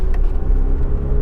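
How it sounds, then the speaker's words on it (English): A Mazda RX7 FB's engine runs steadily, a loud, close, low rumbling idle with no one speaking. "we got an RX7 running"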